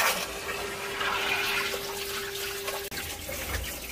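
Water running from a hose into the system of a Sea Ray 320 Sundancer boat, a steady rushing gush with a faint pump-like hum, close and even, briefly cut off near the end.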